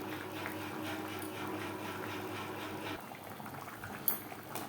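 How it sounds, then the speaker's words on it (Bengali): Chicken pieces simmer in a pot of liquid for biryani, a low steady bubbling hiss held close and faint, which eases off partway through before a brief small clink. "মাংস প্রায় নাইনটি পারসেন্ট সেদ্ধ হয়ে গেছে"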